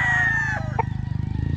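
Close, loud rooster crow at a farm raising banded late-born stags, a drawn-out call that breaks off, followed by rapid rhythmic pulsing clucks.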